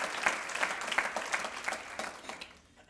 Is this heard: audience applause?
yes